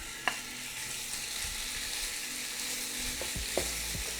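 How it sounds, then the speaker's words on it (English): Thinly sliced steak dropped into hot avocado oil in a nonstick pan, a steady crackling sizzle with a couple of sharp pops and soft clunks as the pieces settle. "I'm gonna drop in my steak."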